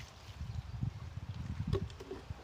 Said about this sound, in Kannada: ನೀರನ್ನು ಹಾಕ್ತಾ ಇದ್ದೀನಿ